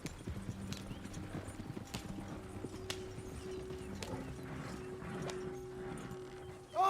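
Horse hooves clip-clop steadily in Red Dead Redemption 2, several animals walking at a close, even rhythm over a low rumbling backdrop, with no talking.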